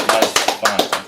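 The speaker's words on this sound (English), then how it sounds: "Give him a little round of applause" Short burst of audience applause from a TV quiz show studio, quick uneven claps repeating in rapid bursts, fairly close and moderately loud.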